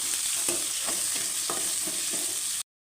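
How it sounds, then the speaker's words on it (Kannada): Onion, green chilli and curry leaves fry in hot oil with a steady close sizzle, broken every half second or so by the soft scrape of a stirring spoon, then stopping abruptly. "ಈರುಳ್ಳಿ ಹಾಕ್ಕೋತಾ ಇದ್ದೀನಿ ಕಾಯಿ ಮೆಣಸು ಹಾಕ್ಕೋತಾ ಇದ್ದೀನಿ ಕರ್ಬಿ ಹಾಕ್ಕೋತಾ ಇದ್ದೀನಿ ಒಟ್ಟಿಗೆ ಹಾಕ್ತಾಯಿದ್ದೀನಿ ಸರಿ ಫ್ರೈ ಮಾಡಬೇಕು"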